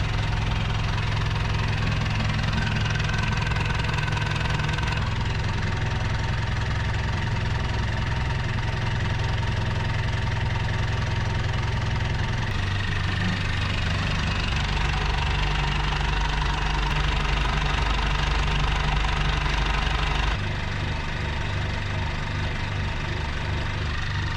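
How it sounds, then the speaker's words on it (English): A wooden boat's engine idles steadily and loudly throughout, a continuous low rumble with a faint knocking texture and no voices. "So we're on the idle now."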